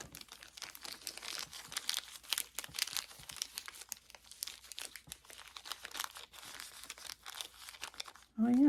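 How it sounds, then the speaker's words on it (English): Crinkly filling rustles and crackles continuously as it is stuffed by hand into a homemade cat toy, close and fairly soft, with a brief voice at the very end. "Oh yeah, it is crinkly."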